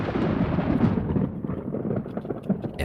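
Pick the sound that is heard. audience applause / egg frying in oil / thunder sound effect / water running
thunder sound effect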